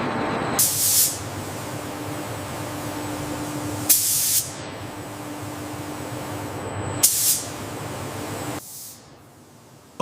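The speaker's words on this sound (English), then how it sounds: "Electrostatic coating is applied in controlled conditions for a smooth, low-friction finish." Electrostatic coating spray hisses steadily onto a Shinkansen E10 train body inside a factory paint booth, with three brief louder bursts over a constant broadband rush that drops away near the end.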